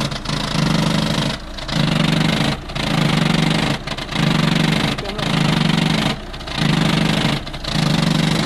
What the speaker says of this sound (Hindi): नॉकिंग साउंड आ रही है इंजन से।